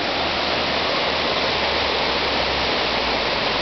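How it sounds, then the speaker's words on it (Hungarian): A babbling stream heard close up, a continuous dense rush of flowing water at steady loudness, with no voices. "itt a patak, olyan zubogása van, hogy csak na"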